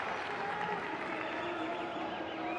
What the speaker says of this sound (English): Gets applause from the main stand below our commentary position